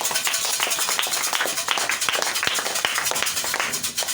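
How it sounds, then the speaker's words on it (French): A congregation at a Holy Spirit revival service claps and cheers, a dense, continuous patter of many hands with sharper individual claps standing out throughout. "Ils sont acclamés pour la parole."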